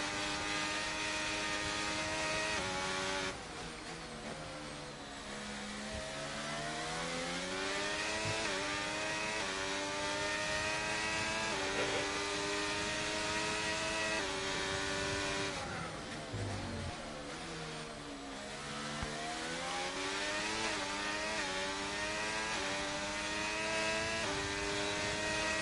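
Race cars roar through a Bahrain Grand Prix in a racing video game, a steady loud high-pitched engine whine that rises and falls through gear shifts for the whole stretch, with no voices.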